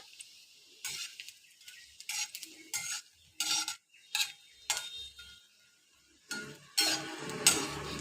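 Lentil dumplings (bori) fry in hot oil in a wok, heard as a quiet sizzle broken by repeated sharp scrapes and clinks of a utensil against the pan in an irregular rhythm.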